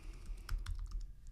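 Keystrokes on a computer keyboard typing a zone name in presentation scoreboard software, a short burst of close, crisp clicks in an irregular rhythm with no talking.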